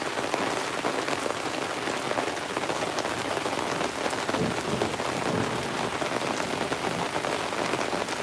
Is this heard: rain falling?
yes